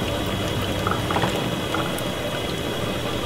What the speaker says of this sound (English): Then go back inside of it and give it a nice little stir like this.